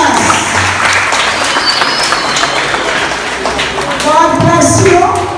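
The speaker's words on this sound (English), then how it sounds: "Clap your hands for Jesus." Congregation clapping their hands for Jesus at a Streams of Power church gathering in St. Vincent, a dense, steady patter of many hands filling the room at moderate loudness, with voices mixed in.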